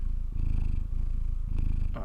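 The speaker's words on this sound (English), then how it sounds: "Why is there a cat purring in my ear?" A cat purrs steadily and up close in Dwarf Fortress, the low rumbling cycles pulsing in a regular rhythm with brief breaks between breaths.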